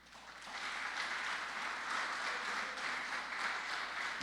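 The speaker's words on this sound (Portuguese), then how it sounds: "Você pode dar um aplauso para Deus?" A church congregation at a worship service breaks into applause, a soft, distant wash of steady clapping that swells after a brief start and stays even for several seconds.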